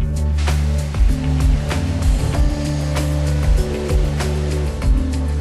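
A ROM ECOFIT skid-mounted high-pressure sewer jetting unit, rated up to 270 bar and 100 litres per minute, sprays water: a loud, steady rushing hiss over a droning pump hum, with occasional sharp knocks and no speech.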